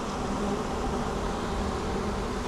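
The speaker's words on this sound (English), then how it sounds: "Buzzing has gone down a little bit, but it's still there" A swarm of honeybees being moved from a bucket into a hive box hums with a continuous, even buzz, close and steady throughout with no voices.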